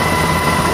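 A rescue helicopter hovers in typhoon winds over a listing ore ship's hoist operation, its rotor and engine roar loud, dense and unbroken for the short moment.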